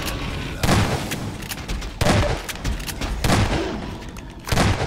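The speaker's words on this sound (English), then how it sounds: "So I'm just gonna shotgun you to death" Shotgun blasts in the video game Half-Life 2: Episode Two, four loud booming shots spaced about a second and a half apart, each with a sharp crack and a short rumbling tail over steady game noise.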